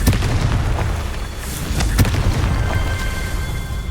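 The Confringo explosive spell goes off in Hogwarts Legacy, producing a loud, dense blast with a booming rumble and a few sharp bursts over a steady roar of game noise.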